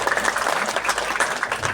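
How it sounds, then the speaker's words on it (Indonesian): An audience at a mosque inauguration in Purbalingga, Indonesia claps in a dense, continuous round of applause, close and fairly loud, with no talk over it. "Tepuk tangan untuk beliau"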